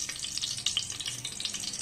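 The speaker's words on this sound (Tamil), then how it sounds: "எண்ணெய் காஞ்சிருச்சு பட்டை வகைகளை போட்டுக்கணும்" Whole spices sizzle in hot oil for a Tamil chola poori preparation, a steady close frying crackle with small pops and stirring, no talk over it.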